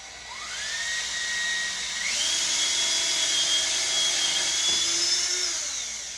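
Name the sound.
cordless drill drilling starter holes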